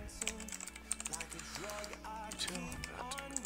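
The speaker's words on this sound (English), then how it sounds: "I'm not very good at typing by the way." Typing on a computer keyboard while coding a Java password generator, a quick uneven patter of key clicks running under a voice and music.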